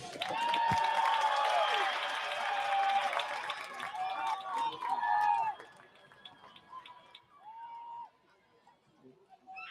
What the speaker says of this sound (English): Let's give one large round of applause for our senior band members.